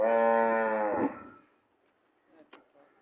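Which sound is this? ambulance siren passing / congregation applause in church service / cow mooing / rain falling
cow mooing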